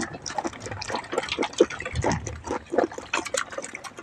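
Soft, irregular slurping and dripping of water up close as goats drink, with small splashes and wet gulps in an uneven rhythm.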